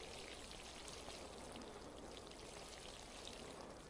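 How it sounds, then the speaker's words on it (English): Water poured over a plant in a video game, a loud continuous rushing and splashing stream that stays steady and close with no breaks. "So you can water it. It's gonna be very loud."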